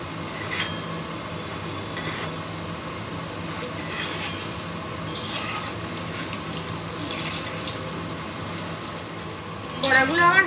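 Soybean kofta balls frying in hot oil in a wok, a steady soft crackle and bubbling that swells louder near the end, with a voice talking over it.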